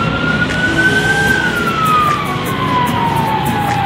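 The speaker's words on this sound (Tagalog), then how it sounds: "So medyo maingay kasi may ambulansya." A loud ambulance siren wailing nearby, its tone rising then slowly falling, over steady traffic rumble.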